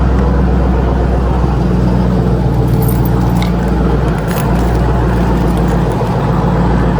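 A 2023 Dodge Durango SRT engine runs as a steady, loud, deep rumble with a constant drone through the whole stretch, plus a few faint clicks and rattles on top.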